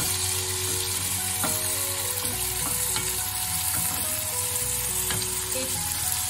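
Cajun-spiced cod fillet on the skin fries in a pan, a steady dense sizzle running throughout with a few soft clinks of a utensil, and no voices.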